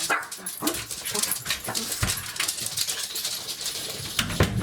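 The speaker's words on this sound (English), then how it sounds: "now the dogs are about to start barking" Dogs barking and whimpering nearby in an irregular, excited series, with a busy background.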